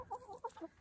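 Backyard chickens clucking close by in short, soft, rapid bursts, quiet and uneven, with no talking.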